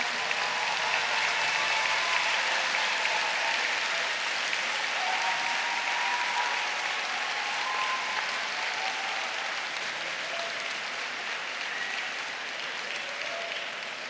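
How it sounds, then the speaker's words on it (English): Sustained, dense applause from a large crowd at a university graduation ceremony for the engineering and law class of 2017, steady and loud throughout with a faint murmur of voices. "give their parents, their friends, their supporters an overwhelming round of applause"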